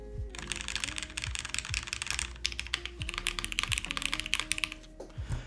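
Rapid clacky typing on a top-mount Alexa mechanical keyboard, close up, with deeper thocking spacebar presses mixed in at a steady rhythm.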